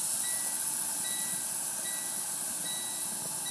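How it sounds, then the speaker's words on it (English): Air brakes released on a truck tractor and trailer during a brake test, giving a steady, loud broadband hiss of escaping air that runs unbroken through the whole stretch, with no voices. "Now I'm going to release both my tractor and trailer brakes."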